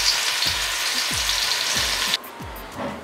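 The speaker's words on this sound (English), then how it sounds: "We'll now add the finely chopped onion and fry it until golden brown" Finely chopped onion sizzles loudly in hot oil for a crab curry gravy, with a dense continuous crackle, several low knocks of a spoon against the pan, and the hiss dropping abruptly near the end.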